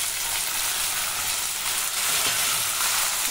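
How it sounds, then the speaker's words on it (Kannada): Chopped tomatoes frying in oil with onion and garlic for tomato chutney, giving a close, constant crackling sizzle that stays even throughout with no voices. "ಎಣ್ಣೆಲಿ ಚೆನ್ನಾಗಿ ಫ್ರೈ ಆಗಲಿ, ಈರುಳ್ಳಿ ಬೆಳ್ಳುಳ್ಳಿ ಜೊತೆ."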